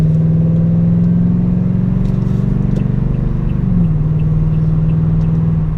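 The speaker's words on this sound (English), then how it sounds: "It sounds like there's definitely an exhaust on it for sure." A 2018 Toyota Tundra pickup with an aftermarket exhaust drones deep, throaty, loudly and steadily while picking up speed, the pitch dipping briefly as it shifts before settling again.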